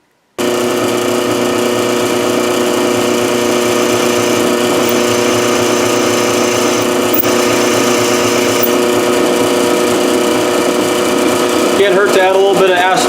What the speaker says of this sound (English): let's go over to the drill press and drill a hole through this